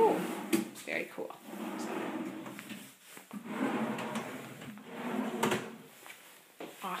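A bathroom vanity cabinet door without a soft-close damper is opened and shut several times, giving light wooden knocks and clacks close by, while someone talks throughout.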